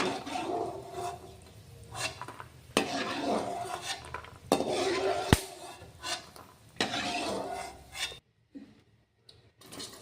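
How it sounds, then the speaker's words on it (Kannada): Metal spatula scrapes and clinks against a pan as fried peanuts are lifted out for masala churumuri, giving close, irregular scraping with sharp knocks before the sound drops to near silence. "ಈಗ ನೋಡ್ರಿ ಶೇಂಗಾ ತೆಗಿತೀನಿ."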